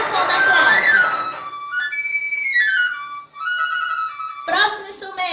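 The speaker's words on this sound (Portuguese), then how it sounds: "Ouve o som da flauta." Flute playing a clear, pure-toned melody with gliding and sustained notes, close and moderately loud, after a short burst of brighter sound and followed by a brief noisy moment at the end.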